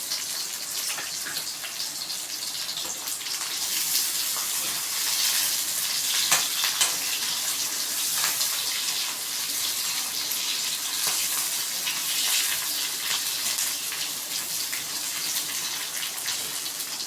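Green chillies sizzle and fry in a hot pan for Tamil-style chana butter masala, a steady close hiss and crackle running throughout with brief stirring sounds and no talk.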